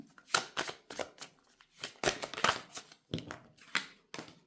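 Tarot cards being drawn and shuffled, a run of close, crisp papery flicks and slaps in quick irregular bursts, with no voices.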